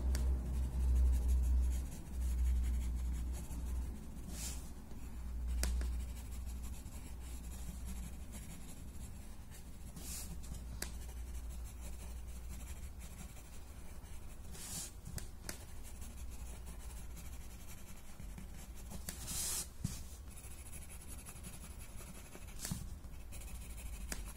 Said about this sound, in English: I'm just going to add some thick graphite on the outside.